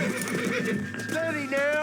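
A horse whinnies in Red Dead Redemption, a rising, wavering neigh near the end of a short burst over steady game noise and a voice speaking throughout.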